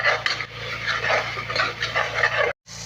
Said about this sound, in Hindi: और अच्छे से चमची की मदद से मिक्स कर लें।